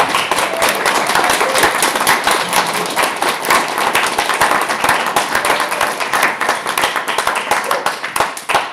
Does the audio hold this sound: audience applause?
yes